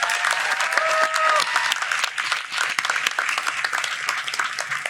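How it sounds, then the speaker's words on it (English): Commencement audience at Stetson University College of Law applauding faculty and staff, dense sustained clapping from a large crowd filling the hall, fairly loud and continuous with a few faint voices mixed in. "Let's give them a round of applause."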